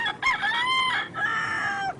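A rooster in the Philippines gives a close, loud crow in two stretched phrases, the second trailing off, standing alone over light ambient hiss.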